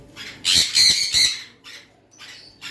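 Tame baby sun conures squawk nearby in a run of three harsh, shrill calls, then fainter scattered squawks follow.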